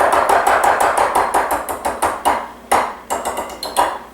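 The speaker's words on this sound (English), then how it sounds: "Grab the whisk again to just get that coconut oil incorporated" A whisk clinking rhythmically against a bowl while coconut oil is mixed into cornbread batter, with steady bright taps that slow into spaced strokes near the end.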